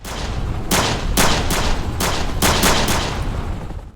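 Loud gunfire rings out during a battle in Bala Murghab, Afghanistan, in a series of sharp, echoing shots, some spaced apart and some in quick bursts, with no voices.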